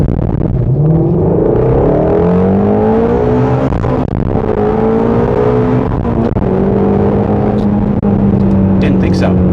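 Powerful car engine revs and accelerates loudly and close, rising pitch sweeping upward repeatedly over several seconds with a deep rumble, a person briefly speaking under it.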